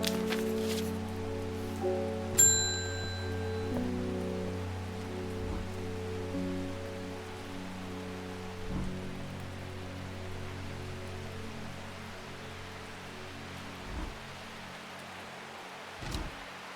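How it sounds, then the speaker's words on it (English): Steady, even rain hiss in the video game Strange Horticulture, set in the town of Undermere, running unbroken beneath soft sustained musical tones, with a few brief clicks. "Does it ever stop raining in Undermere?"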